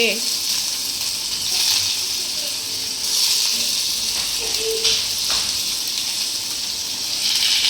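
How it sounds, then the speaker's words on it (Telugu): Paneer fries in a pan with a loud, steady, close sizzle that hisses continuously throughout, swelling slightly at moments with faint crackles. "పన్నీరు ఒక సైడ్ ఫ్రై అయిన తర్వాతకి రివర్స్ చేసుకోవాలి టూ సైడ్స్ మంచిగా ఫ్రై చేసుకోవాలి"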